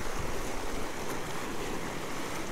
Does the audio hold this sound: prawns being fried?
no